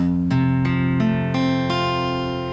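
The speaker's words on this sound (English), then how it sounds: "hold this down with lots of strength and strum the strings" Acoustic guitar chords strummed firmly, several bright ringing strums in a steady rhythm, each sustaining clearly into the next, close and alone.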